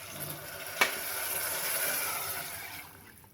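Water pours into a pot while cooking nonbu kanji, after mint sautéed in it, giving a steady close rushing splash that swells and then tapers off, with a brief clink near the start.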